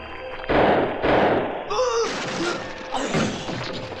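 Gunfire rings out in a Mummy theme park show scene, a pair of sharp blasts followed by shouting voices and further bangs, loud and close.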